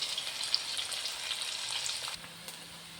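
Onions sizzle in hot oil in a pan while a chicken dish is cooked, a steady close frying hiss with small crackles and no talking.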